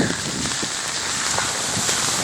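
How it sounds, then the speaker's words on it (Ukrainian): Steady rain falls throughout in mid-June while a shrub blooms, a dense continuous hiss of drops striking surfaces nearby with scattered louder patters, no voices. "Ось зараз дощ йде."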